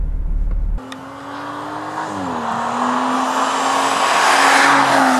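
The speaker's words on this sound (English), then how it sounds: "let's hit the road in this new Audi RS4" Audi RS4 Avant with a sports exhaust pulls away on the road, a steady engine drone rising and dipping through a gear change, then building in pitch and loudness toward the end, with no talk over it.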